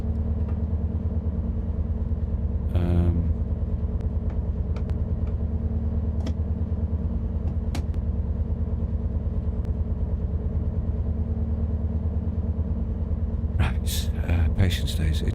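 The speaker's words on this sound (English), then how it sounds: "Turn the engine on. I think the engine is on." A train's diesel engine in Train Sim World 6 on the Riviera Line hums at a steady low idle throughout, close and constant, with a few brief clicks and knocks on top and a voice talking over it.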